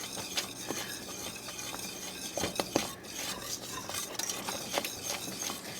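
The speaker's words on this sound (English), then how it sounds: "Mix that in, stirring constantly." A spoon stirs cherry pie filling with lemon juice and liqueur in a pot, making quiet, steady scraping strokes with occasional light clinks against the metal.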